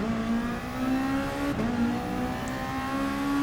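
Race car engines hum and drone steadily at a rolling start in the Gran Turismo Sport racing game, a sustained loud engine tone with slight pitch shifts and no voices.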